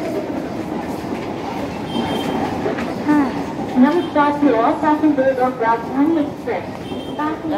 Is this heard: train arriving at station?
yes